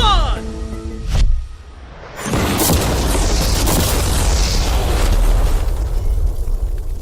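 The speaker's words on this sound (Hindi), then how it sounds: "चलो उड़ाते हैं एक नॉर्मल कार को" An ordinary car is blown up in a loud explosion: a sharp boom near the one-second mark, then a sustained roaring blast and rumble that fills the rest of the clip. Speech is heard early on.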